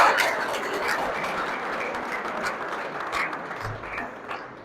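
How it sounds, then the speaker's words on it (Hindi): Audience applause at a live comedy show, a steady wash of clapping that holds at moderate loudness for several seconds without fading or swelling. "तालियां कमजोर है"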